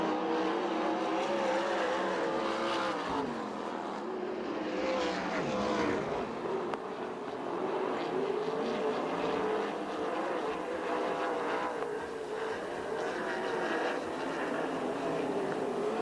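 USAC/CRA sprint cars race the final lap at Perris, a loud, continuous engine roar that rises and falls as the pack passes, with no voices over it.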